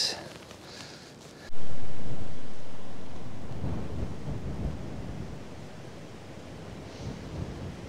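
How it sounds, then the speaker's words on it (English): Strong wind gusts buffet a microphone beside a still-water trout fishing lake, a heavy rumbling roar that surges in loudly after a quiet start and keeps blustering steadily throughout, with no voices. "Difficult in this wind."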